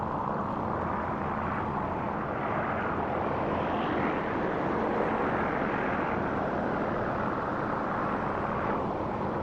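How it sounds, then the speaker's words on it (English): A propeller aircraft engine drones steadily while taxiing on a runway in a flight combat game, a continuous even hum at moderate loudness with no speech. "We're taxiing to the end of the runway."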